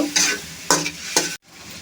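Spice paste and lentils being stirred and fried in a pan for a cauliflower and rohu fish head dish, three sharp sizzling scrapes of the spoon at an even pace, close and loud, then a short gap.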